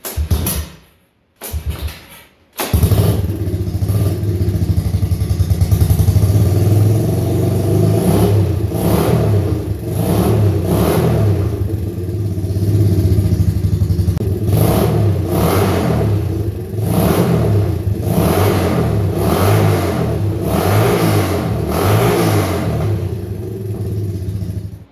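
A Honda ATC200X three-wheeler with an automatic engine swap and a 200X DG exhaust revs up repeatedly. A loud, close engine drone rises and falls in surges after a few brief starting bursts.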